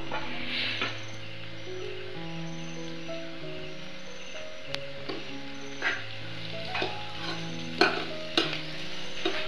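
Beans mezhukkupuratti, a Kerala-style stir-fry, is stirred in a pan with a spoon scraping and rustling through the vegetables over a soft sizzle, with occasional louder knocks, and steady background music plays throughout.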